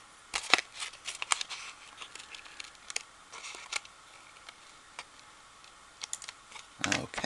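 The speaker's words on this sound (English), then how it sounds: "I'm going to fussy cut out around the edge here." Small fussy-cutting scissors trim paper for a Stampin' Up! Valentine card, giving quick, close, crisp snips in irregular bursts with quiet gaps between.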